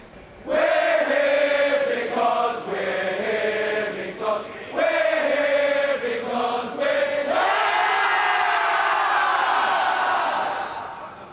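A massed gathering of voices rises amid rush-hour crowds at London's Waterloo Station. A loud, sustained swell of many people sounds together in a tonal, chant-like blend, echoing through the large hall for several seconds before fading.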